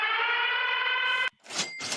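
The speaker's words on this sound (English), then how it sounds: "Go ahead and play the siren" A sustained steady electronic siren tone sounds during a sports free agency livestream, cutting off abruptly after about a second and followed by short bursts of noisy sound.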